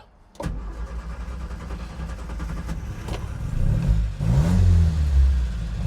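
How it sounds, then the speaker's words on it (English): A 1960 Lotus Elite engine, already at operating temperature, cranks and catches after a brief quiet start, settles into a running rumble, then revs up louder in a couple of rising bursts near the end. "The car has been started. It's up to operating temperatures."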